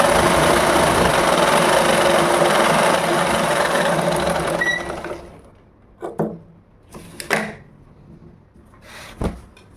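Sewing machine stitching a ladies blouse, a dense continuous whirring run for about five seconds that stops abruptly, followed by a few short clicks and bursts of handling.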